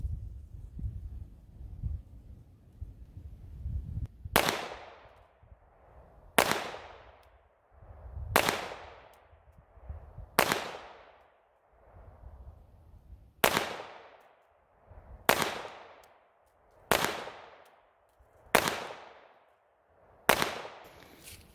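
Ten sharp pistol shots from a 1922 FN Browning in .32 ACP at a short-range target, fired singly at a steady pace about two seconds apart. Each is loud and close with a quick decaying tail, and no talk is heard.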